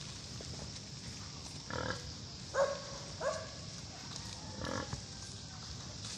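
A few short grunts and snorts from pigs, scattered and moderately distant over a steady background hum.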